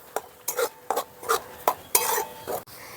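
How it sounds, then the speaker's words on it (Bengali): Grated carrots tossed and stirred in a wok, heard as rhythmic scraping strokes of a utensil against the metal roughly every half second, with only faint frying underneath and no talking. "এখন ভালো করে নাড়াচাড়া করে একটু ভাজা ভাজা করে নেব, যাতে গাজরের কাঁচা গন্ধটা চলে যায়।"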